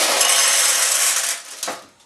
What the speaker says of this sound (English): We'll go ahead and load some balls here into your receiving tray.